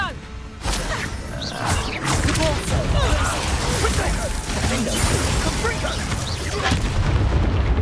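Hogwarts Legacy battle arena combat on the North Coast, with a dense run of booming spell blasts, whooshes and crashes packed together under shouted spell casting, loud and continuous throughout.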